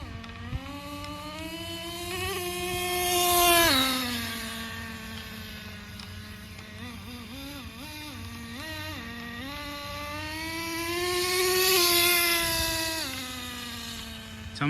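A Traxxas 4Tec RC car with a newly fitted transmission clutch runs its small nitro engine loud and close, rising in a high buzzing whine, wavering through what sound like gear shifts midway, then revving up again.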